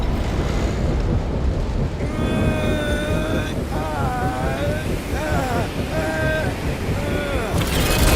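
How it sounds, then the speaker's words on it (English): Strong wind blows in Guardians of the Galaxy, a constant loud gusting rush with voices speaking over it in places. "This wind shall not break our determination!"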